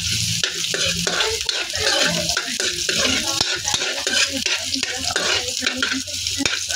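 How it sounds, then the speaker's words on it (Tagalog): Ginger and onion sautéing in a pan for a crab Bicol Express, a steady loud sizzle with repeated stirring scrapes throughout, no voices. "Gigisa tayo ng luya at sibuyas."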